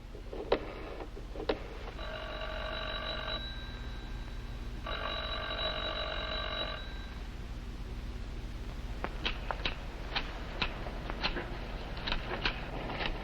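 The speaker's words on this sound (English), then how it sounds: "The phone's been ringing night and day at the Grand Bungalow. There it goes again." An old-fashioned telephone bell at a bungalow rings in two long trilling bursts with a pause between them, over a faint background hiss. A few sharp clicks and knocks follow after the ringing.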